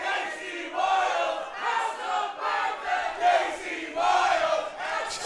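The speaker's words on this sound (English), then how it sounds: "Just listen to this crowd in Newport. This is electric." A wrestling crowd in Newport chants and roars in rhythmic surging waves, loud and rowdy, a packed arena voicing itself in repeated bursts.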